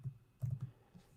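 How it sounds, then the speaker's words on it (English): A few soft computer keyboard keystrokes come in two small bursts, close and quiet, with no talking. "Oh, boy, I cannot type it all here."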